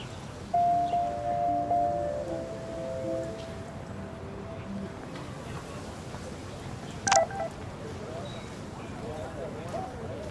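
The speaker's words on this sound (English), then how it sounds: "I better read Warren's text before he blows my phone up." Short electronic phone keypad beeps sound in the video game Life is Strange. A quick run of tones comes early, under a steady hiss of outdoor ambience, and a brief sharp tap follows later.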